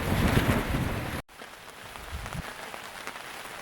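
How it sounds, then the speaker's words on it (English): Light rain patters steadily on an outdoor hiking trail, a soft continuous hiss with gusts of wind buffeting the microphone, no voices. "now it's starting to rain a little bit"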